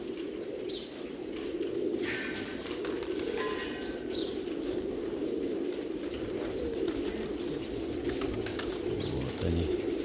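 A flock of pigeons coos in a low, continuous murmur while wings flap and faint chirps drift in now and then, heard outdoors at moderate distance.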